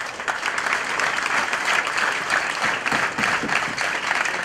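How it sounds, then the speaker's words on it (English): A steady round of applause rises from the audience at a ceremony, continuous clapping with a fairly even, moderately loud texture from start to finish. "Can we please give them another round of applause?"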